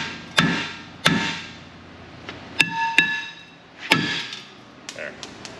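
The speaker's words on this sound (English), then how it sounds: "You don't want to watch me smash your truck with a hammer." A hammer strikes a rusty New York truck in about seven sharp, irregular metallic blows, some leaving a brief ringing tone, close and loud.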